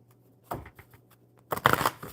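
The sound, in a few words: shuffling a deck of cards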